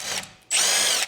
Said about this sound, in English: now we need to use a torque wrench to remove this screw here